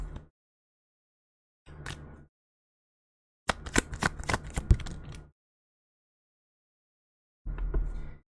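Tarot cards are shuffled by hand, with a few short soft riffles and one longer run of crisp, close flicking and slapping separated by silence.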